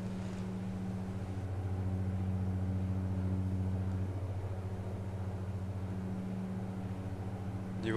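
Steady, droning aircraft engine hum in the X-Plane 10 flight simulator, flying near Réunion and Mauritius, holding a constant pitch with no talking.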